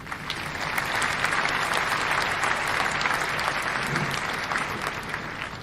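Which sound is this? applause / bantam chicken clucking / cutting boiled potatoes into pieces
applause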